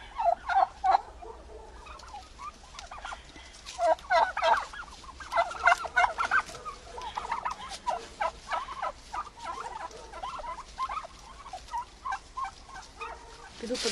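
Several turkeys gobble repeatedly in bursts, fairly close, with overlapping calls from a small flock in a village farmyard in autumn.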